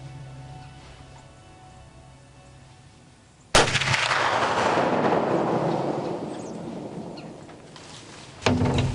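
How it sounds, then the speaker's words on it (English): A muzzleloader rifle fires once during a deer hunt, a single loud sharp blast that cuts through quiet outdoor ambience and rolls away in a long decaying echo, with a second sharp knock near the end. "We're gonna reload this muzzleloader real quick. I feel good about the shot."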